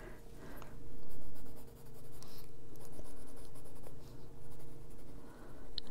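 A gray Posca marker scratches steadily across paper while an adult coloring page is filled in, a close, continuous scribbling texture with short pauses and a low hum underneath.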